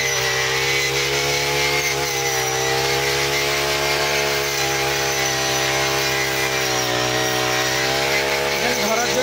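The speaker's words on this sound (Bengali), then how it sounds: "খুবই ইজিলি, খুবই স্মুথলি ধানগুলো কাটতে পারছে" A small, flexible paddy-cutting machine weighing about 11 kg harvests rice in a field, its motor giving a loud, steady, buzzing whine that holds unbroken throughout.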